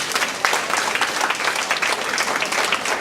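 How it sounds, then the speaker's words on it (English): A crowd at an awards event applauds steadily and fairly close, a dense patter of many hands clapping continuously throughout with no break. "let's give her another round of applause."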